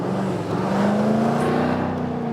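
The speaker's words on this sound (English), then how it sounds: "the exhaust note won't make a big difference then, just when you put it on, then accelerate" Jaguar F-Type P450 R-Dynamic V8 convertible from 2020 under acceleration, its exhaust giving a steady, loud engine drone with a slowly rising pitch, close and continuous with no talking.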